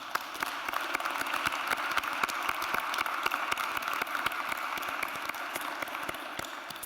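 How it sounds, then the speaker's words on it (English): Audience at a health professions commencement ceremony applauding, a dense continuous patter of many hands clapping, fairly distant and moderate in level, sustained for several seconds without voices. "let's give them one more round of applause"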